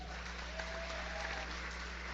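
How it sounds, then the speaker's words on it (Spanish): Church congregation applauding during a worship service, a brief, faint, steady patter of clapping from a distant crowd over a low hum. "Denle un aplauso al Señor."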